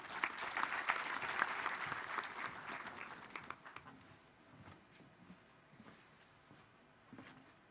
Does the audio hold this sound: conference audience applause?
yes